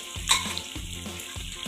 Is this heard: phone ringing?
no